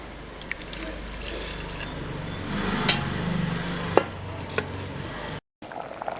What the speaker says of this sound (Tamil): கொஞ்சம் தண்ணி சேர்த்துக்கலாம்.